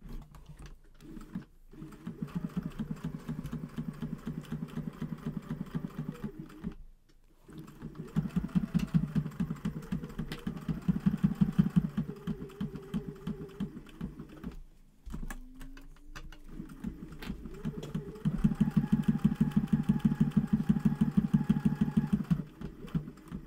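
A sewing machine stitches down a fabric shaker library pocket in long steady runs of rapid mechanical whirring, broken by short pauses. It is close and fairly loud, with no talking.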